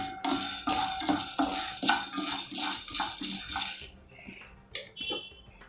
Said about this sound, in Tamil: ½ கப்பு உளுத்தம்பருப்பு, ½ கப்பு கடலைப்பருப்பு, ஒரே ஒரு மிளகா வத்தல் போடுறேன்